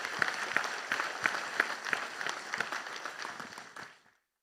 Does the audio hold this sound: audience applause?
yes